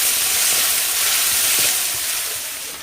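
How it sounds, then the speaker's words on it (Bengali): Spices, ginger-garlic paste and chopped tomato frying in a pan, a loud, steady sizzle and hiss that fades slightly toward the end, with soft stirring scrapes and no voices. "দেবো টমেটো কুচি এবার সমস্ত মশলাগুলো একসাথে ভালোভাবে কষিয়ে নেব"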